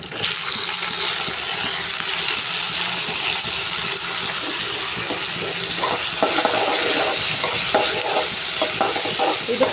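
Onions sautéing in a pan before tomato goes in, a steady close sizzle with frequent stirring scrapes and clinks throughout, no voices.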